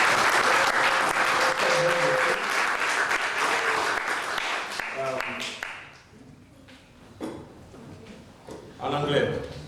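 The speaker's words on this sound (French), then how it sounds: "Est-ce qu'on peut applaudir David?" A church congregation claps for a few seconds, the applause thinning and fading, followed by quieter sounds and a voice near the end.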